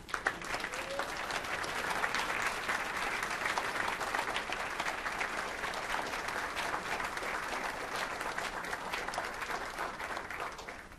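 A school board meeting audience applauds newly appointed staff members, dense sustained clapping from many hands filling the room for about eleven seconds without pause.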